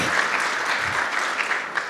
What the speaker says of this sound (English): let's give Norma a huge round of applause